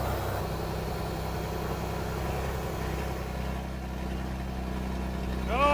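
An old tractor engine runs in road gear with a steady, heavy low-pitched drone that stays constant throughout, heard close and loud, with no talking.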